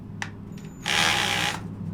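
Power drill on hammer setting drilling into brick for a doorbell mount, a brief click and tap followed by a loud rough buzzing burst lasting under a second, then a low steady hum.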